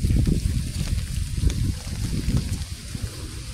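Floodwater rushes through a nearly overflowing drainage channel with a steady, heavy, low churning roar close by, and faint wind noise over the microphone.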